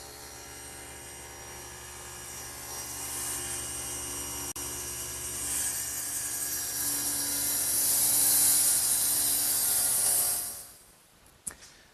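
A table saw's loud, steady whine runs for about ten seconds, then the motor cuts off and spins down to near silence, followed by a single sharp clunk as the blade is lowered in a woodworking shop.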